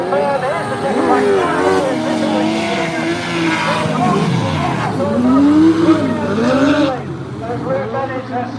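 Race cars, likely stock cars at a men's national meeting at York, roar and whine around an oval track with tire squeal and engine sweeps, under continuous commentary by an announcer.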